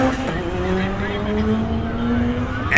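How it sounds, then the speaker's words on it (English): A roll-racing Evo and an R33 GT-R at a New Zealand car show, engines droning under a crowd-style wash with rising engine tones and steady noise. "Next up we got this roll racing specialist Evo versus an R33 GDR."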